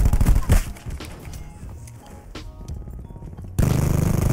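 Gunfire in Black Ops 4: a few sharp shots and impacts early, then a quieter lull with faint game sounds, followed by a sudden loud, rapid automatic burst close by at the end.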